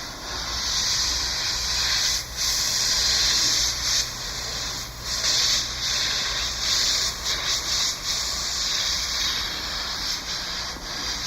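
Airbrush hissing paint onto a T-shirt design, a bright steady spray that stops and restarts in short bursts, close and fairly loud with no talking.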